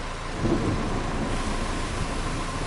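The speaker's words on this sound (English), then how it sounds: "Which makes sense because it's raining" Steady rain and rumbling thunder fill the Farming Simulator 25 game world, a continuous dense roar of rainfall with a low rolling swell of thunder, no voices.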